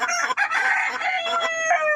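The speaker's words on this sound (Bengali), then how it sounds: "এই হলো আমার টাইগার মোরগ" A tiger-breed rooster crows loudly and close in a small home poultry shed, its long call running almost the whole time, with faint hen clucks alongside.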